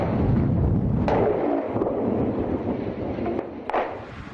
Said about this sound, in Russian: Взрывы в районе ЧП гремят не переставая.